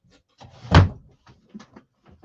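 A household drawer slides and knocks shut with one loud thump, surrounded by softer scraping and rattling clicks as it is opened and closed nearby, with no talking.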